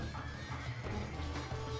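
A horse neighs amid a medieval battle in the real-time strategy game Age of Empires II, with hooves and combat noise underneath, brief and fairly loud against a busy game soundscape.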